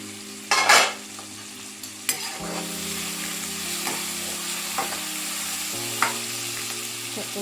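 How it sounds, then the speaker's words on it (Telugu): Cut spinach leaves drop into a hot pan with a burst of sizzling, then fry quietly under a steady hiss with occasional clinks and scrapes of stirring. "ఇక్కడ కట్ చేసుకున్న ఆకుకూర వేసేస్తున్నాను"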